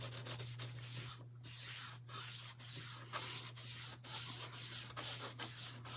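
A steady, close scratchy rubbing as color is worked by hand onto a fabric quilt doll for a craft project, in repeated strokes with brief pauses, over a low constant hum.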